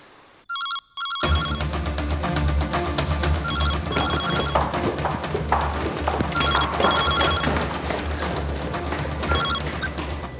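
A telephone rings in short repeated bursts of trilling bells over loud, dramatic background music with a heavy low rumble.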